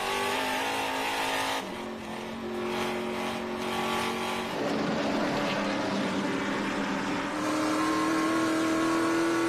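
TA2 series race car on track with engine roaring and revving, shifting pitch as it passes near and loud, other cars audible throughout.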